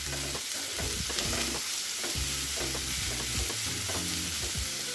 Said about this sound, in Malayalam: സവാള ഇട്ട് കൊടുക്കണം. അതൊന്ന് ഒരു 2 മിനിറ്റ് വഴറ്റിയതിന് ശേഷം